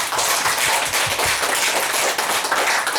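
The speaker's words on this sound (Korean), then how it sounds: "자, 우리 하나님께 영광의 박수 올려드리겠습니다." Church congregation applauding during a worship service, a dense continuous clapping that stays steady and loud for the whole stretch, with no talk over it.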